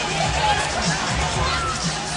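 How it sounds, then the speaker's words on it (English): An arena crowd celebrating after Game 6 of the 2006 NBA Finals between Miami and Dallas: a dense, steady roar and babble of many voices with a broadcaster talking over it throughout. "still a lot of celebrating going on here"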